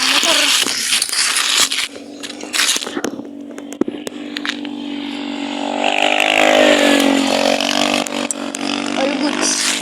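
A small motorcycle engine drones and revs while riding, its pitch rising and falling, with wind buffeting, scrapes and clicks, and someone talking over it in places.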